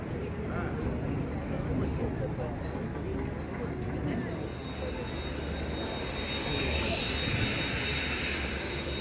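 A T-200 amphibious aircraft engine drones steadily, a broad rumbling roar that persists for several seconds with a faint high whine rising midway.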